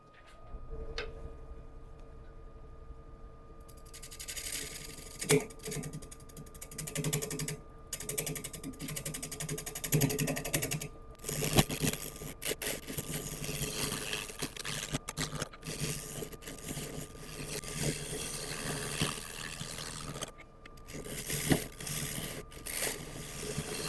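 A big scraper cuts into hard wood spinning on a lathe, giving a busy scraping, ratcheting chatter that keeps up steadily with brief pauses, mostly close and moderately loud.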